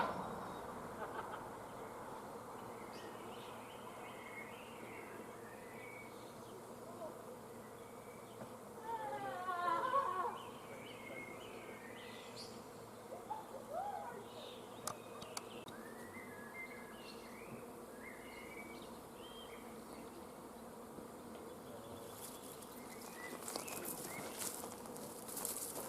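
A large swarm of bees hums as a faint, continuous drone outdoors, with louder passes when single insects buzz near, plus occasional light taps and distant bird notes.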